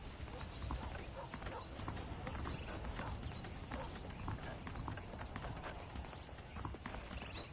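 Horse hooves clip-clopping at a steady walking rhythm in the Red Dead Redemption video game, close by and fairly soft, with ambient background noise underneath.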